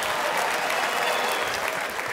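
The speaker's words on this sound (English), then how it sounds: "Some of you are clapping" Comedy club audience applauding steadily at a stand-up show, a dense, even wash of clapping from a crowd that fills the room at full volume for the whole stretch.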